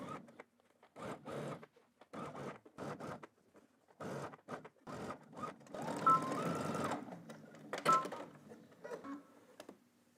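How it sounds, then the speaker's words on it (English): A home sewing machine stitches garment sleeves in place with a 5/8 inch seam allowance, running in several short bursts and one longer steady run, close and clear with quiet pauses between. "we're gonna head to the machine and stitch all the way around using 5/8 of an inch seam allowance"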